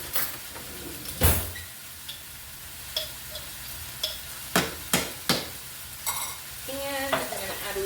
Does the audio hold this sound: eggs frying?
yes